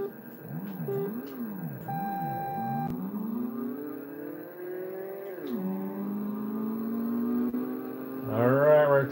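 A retro arcade driving cabinet's synthesized car engine revs in swooping, rising and falling tones, then settles into a steady climbing whine before revving sharply again near the end. Game sounds stay prominent and loud throughout.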